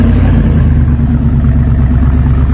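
A Ford 7.3-litre Godzilla engine runs at a steady, loud, close drone with a deep, even rumble and no change in pitch across the short stretch.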